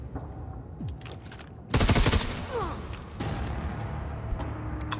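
Gunfire in Necromunda Underhive Wars, one sharp rapid burst of automatic shots up close, followed by lingering echoing clatter and a few scattered smaller impacts over a low background rumble.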